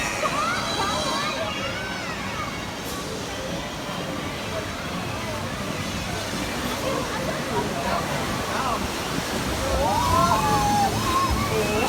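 Water churns and sloshes steadily around a boat on a theme park water ride at Universal Orlando, under riders' excited chatter and shrieks, with the rushing growing louder near the end.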